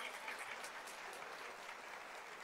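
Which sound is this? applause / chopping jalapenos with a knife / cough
applause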